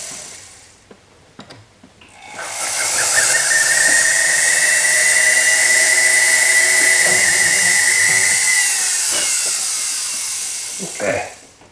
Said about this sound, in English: I'm going to assume I'm going to need to clean up the edges with the ball burr.